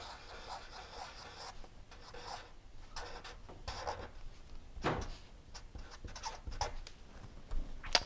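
A pen scratches and rubs across paper while redrawing a tube diagram, with faint irregular strokes and short scribbles close by and no talk.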